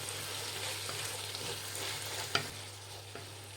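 Shredded cabbage being stirred and fried in a pan, a steady close sizzle with scraping stirs and a sharp spatula knock partway through, no voices.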